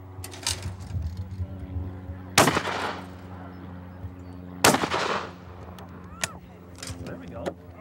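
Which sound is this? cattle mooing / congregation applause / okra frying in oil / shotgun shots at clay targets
shotgun shots at clay targets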